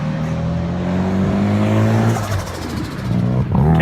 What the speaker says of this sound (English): Case in point, another loud engine.